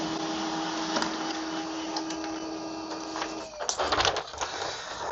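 A Samsung Xpress M2070W laser printer prints a page with a steady mechanical whir, then a louder burst of clattering paper feed near the end. No one speaks.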